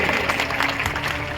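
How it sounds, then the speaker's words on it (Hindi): A crowd at a Tilwar village assembly event applauds its organisers with a brief, dense burst of clapping, and a faint hum runs underneath. "इतना शानदार कार्यक्रम आयोजित करने वाले इस तिलवार ग्राम सभा के लिए जोरदार तालियों से इनका अभिवादन करिए"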